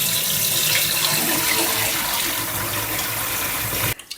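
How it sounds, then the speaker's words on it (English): Rice is rinsed under a running kitchen tap, a loud, steady rush of water that goes on unbroken for several seconds, then stops abruptly. "I have to wash the rice until the water is clear."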